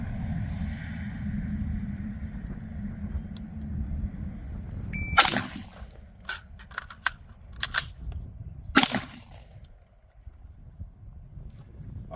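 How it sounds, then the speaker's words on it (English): An AR-15 rifle is reloaded using the charging handle: a low steady rumble gives way to a series of sharp metallic clacks and rattles of the magazine and action, close and fairly loud, spaced over several seconds. "So I'm going to do the charging handle reload first, and then I'll do the bolt release."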